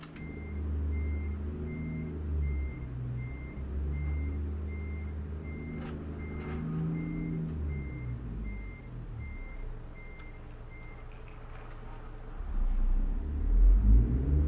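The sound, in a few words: truck reversing beeps in video game American Truck Simulator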